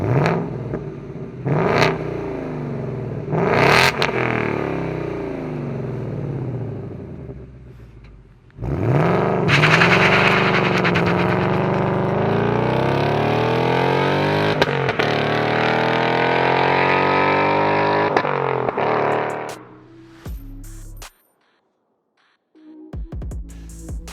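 Ford Mustang Mach 1 V8 revving with a few short blips at first, then a loud, sustained rising roar as it accelerates hard past the listener. Sharp cracks follow as the engine note falls away and cuts off, leaving near silence before a brief final rumble.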